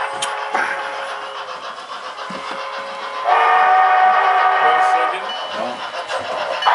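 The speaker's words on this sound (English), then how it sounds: "This is the non-stop morning express to Lindsay from Albuquerque." Model railroad train runs as the morning express to Lindsay, a steady motor whine with a brighter, louder stretch through the middle; brief voices speak faintly over the running layout.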